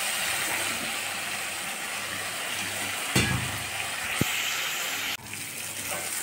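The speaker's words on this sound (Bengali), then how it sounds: "আমার মশলা ভাজা ভাজা হয়ে এসেছে, আর একটু ভাজা হলে আমি জল দিয়ে দেবো।" Spice masala frying in a pan for Bengali fish curry, a steady dense sizzle running throughout with a few brief clinks and scrapes of a utensil, close and moderately loud, no talking.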